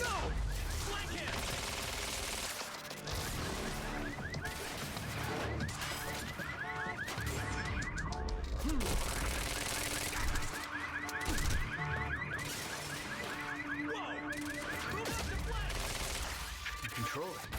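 Gunfire during a firefight in the video game Quantum Break, dense repeated shots and bursts mixed with alarms and crashes, loud and continuous under shouted voices.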